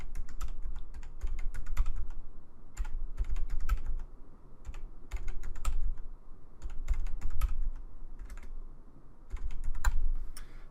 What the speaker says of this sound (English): I'm going to type those in.